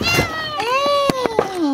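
A pregnant stray cat gives a long, rising and falling meow, clear and close, with a few faint knocks and a brief voice-like sound beneath it.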